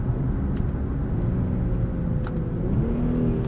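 The engine of a 2022 Infiniti Q50 Red Sport 400 with a 7-speed automatic hums as it revs on the street, a continuous low rumble that rises and falls with the throttle, heard from inside the car.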